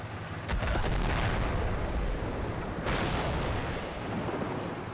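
A tank gun fires in a World War II tactical video game, two booming blasts about two seconds apart, each trailing a rumbling, echoing tail.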